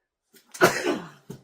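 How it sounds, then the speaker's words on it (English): A single sharp sneeze bursts out close by, followed by a short breath. "Oh, I'm going to sneeze."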